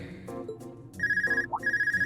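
Telephone ringing in the video game Trails of Cold Steel 2: an electronic ringtone, first as soft chiming notes, then steady bright rapid trills that repeat twice, clear and fairly near with no voices.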